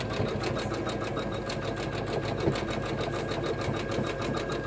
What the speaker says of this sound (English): we're going to finish stitching this L.